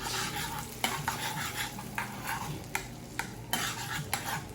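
Garlic heats in butter in a pan, giving a steady close sizzle with a few sharp clinks of a utensil against the pan.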